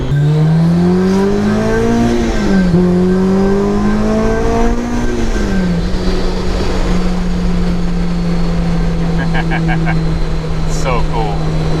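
A supercharged Honda S2000 CR accelerates on the road, the engine drone rising in pitch through gear changes before settling into a steady loud cruise, with a voice talking over the engine and road noise.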